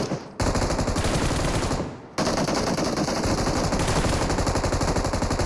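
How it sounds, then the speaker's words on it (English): Dense automatic gunfire from the mobile game PUBG Mobile during a league finals match, loud sustained rapid bursts that briefly fade and then resume, without talk over it. "Shroud just avoiding the shots."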